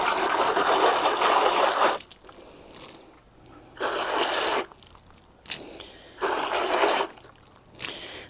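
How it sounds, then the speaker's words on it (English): Plastic seed-starting cell packs rinsed under running water, with three loud gushing bursts of several seconds each, separated by quieter pauses filled with faint handling clatter. "I'll rinse them out a little bit."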